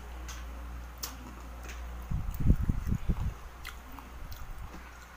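Crispy fried mushroom snack, Indonesian jamur crispy with chili seasoning, crunched and chewed up close, a burst of loud crackling bites that fades into softer munching against a quiet background.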